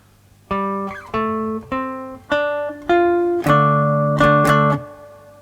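A short riff on a three-string guitar tuned GDG, of single plucked notes in a staggered rhythm, ending in a few quick strummed chords, clear and close with no talking.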